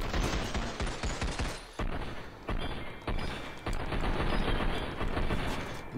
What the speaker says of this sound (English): Nice dual wielding pistols